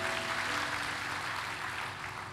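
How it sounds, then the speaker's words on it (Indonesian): A church congregation claps together in a steady, sustained wash of applause that tapers slightly toward the end, with no speech over it. "Berikan tepuk tangan buat Tuhan Yesus."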